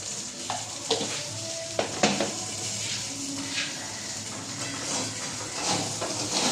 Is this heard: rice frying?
yes